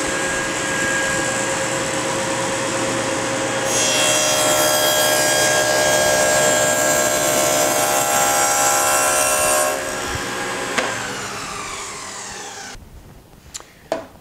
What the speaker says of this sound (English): I'm going to push this in over this dado stack about halfway and then stop the saw